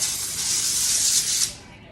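A steady coconut oil cooking spray hisses for about a second and a half, close by, onto a metal cooling rack, then cuts off and fades.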